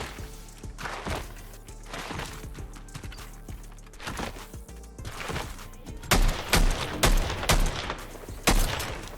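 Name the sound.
AUG rifle shots in the video game Fortnite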